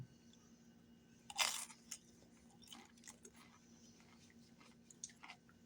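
A crunchy breaded chicken strip is bitten with one loud, close crisp crunch, followed by softer, irregular chewing crunches, alone without talk.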